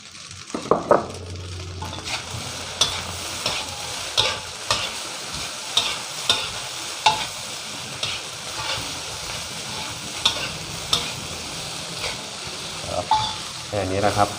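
Rice with Chinese sausage stir-fried in a pan, spring onions going in near the end, a continuous hiss of sizzling oil broken by regular scraping strokes of the spatula against the pan.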